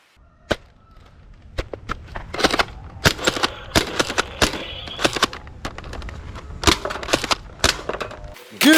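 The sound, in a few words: Nerf AK47 toy blaster firing semi-automatic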